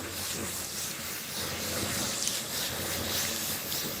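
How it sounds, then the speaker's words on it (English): Alcohol spray is misted onto skin to degrease it before tattooing, a steady hissing spray that runs evenly for several seconds with no pauses. "it's an alcohol spray which is going to degrease the skin"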